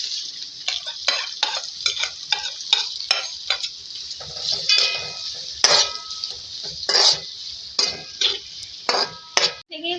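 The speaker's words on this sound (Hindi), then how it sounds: "देखिए इसी ऑयल में अब मैं प्याज को फ्राई करूंगी।" About 250 grams of onions light-frying in oil for chicken karela karahi give off a steady, close sizzling hiss, broken by repeated scraping and clinking as a utensil stirs them in the pan.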